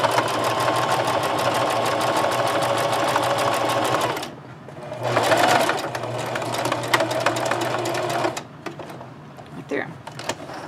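A sewing machine stitches a scrub cap in white thread in a steady, loud run of rapid needle strokes. It stops briefly, then runs again in shorter bursts.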